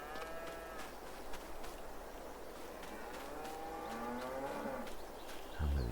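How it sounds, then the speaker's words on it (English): Cattle low and moo inside a cow barn in Farming Simulator 22, several drawn-out calls overlapping over steady ambient farm noise, with a louder thump near the end. "It has actually got cows in it too."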